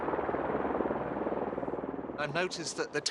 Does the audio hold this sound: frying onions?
no